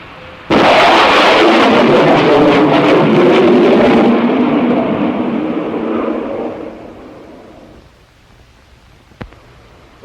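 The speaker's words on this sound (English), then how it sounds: "It is the sonic boom you hear from a supersonic airplane." Sonic boom from a supersonic airplane: a sudden loud blast that opens into a broad roaring rumble and fades away over several seconds, followed by a faint click.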